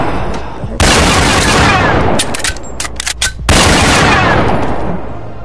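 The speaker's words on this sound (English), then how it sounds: "The third way is you use AK-47, baby." AK-47 gunfire in a video game, two long loud bursts of rapid automatic shots, close and dominant, separated by a brief gap of scattered single cracks and pings.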